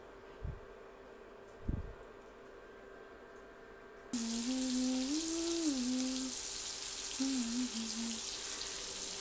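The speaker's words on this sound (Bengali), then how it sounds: "সেই ভাজার মধ্যে আমি এখন পুঁটি মাছগুলো ভেজে নেবো" After a few seconds of near quiet with a couple of soft knocks, small puti fish (pool barb) start frying in oil until crisp with a steady sizzling hiss and a faint melody behind.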